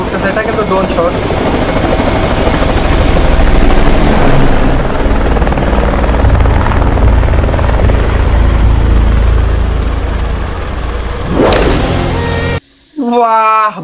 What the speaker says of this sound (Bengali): হেলিকপ্টার উঠতেছে, এটা কিন্তু ড্রোন শট।